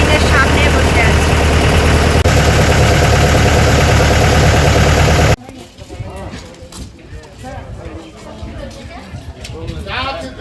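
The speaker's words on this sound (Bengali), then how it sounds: "আমি একদম ইঞ্জিনের সামনে বসে আছি" A boat engine thuds loudly right beside the listener on the water near Neermahal, Tripura, steady and dense for about five seconds before cutting to a quieter, patchier stretch of softer engine noise and background sound.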